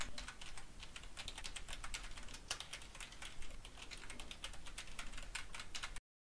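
Rapid, steady typing on a computer keyboard as a password is entered, dense quiet clicks in a continuous run with no talking, ending in silence.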